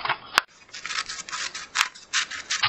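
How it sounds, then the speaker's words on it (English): Green scissors cutting paper along a line, close up, with a few sharp snips and soft rasping slides of the blades between them. "I use my green scissors. Cut in from the edge and follow the line."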